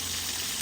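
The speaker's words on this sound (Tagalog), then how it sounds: "At si Mami ay nagpiprito na." Salmon frying in a pan, a steady dense sizzle and crackle heard up close, continuous and even, with no voices.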